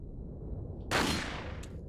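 A single pistol shot in Resident Evil 4, aimed at chains on a door: one sharp, bright crack over a low steady rumble, with a short tail and a faint second tick just after.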